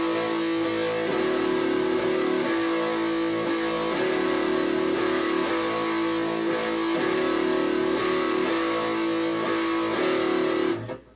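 An electric guitar with a slightly gritty tone strums a basic 12-bar blues progression in a steady rhythm, with chords ringing continuously and no voices over it.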